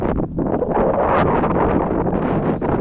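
Strong wind blows across an open wheat field, a steady broadband rush with gusting swells and heavy buffeting against the microphone throughout, loud and close with no voices.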